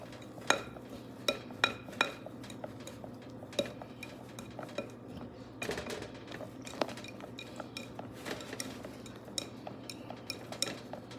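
Key lime icebox pie filling, a custard-like mix, is whisked by hand in a bowl. It gives a steady run of close metallic clinks and taps against the bowl with rhythmic stirring swishes underneath and no talking.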